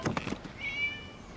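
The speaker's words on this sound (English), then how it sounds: "It was just a cat." A cat in the Genshin Impact video game gives one short, thin, drawn-out meow. It follows a few brief soft noises and sounds faint and slightly distant.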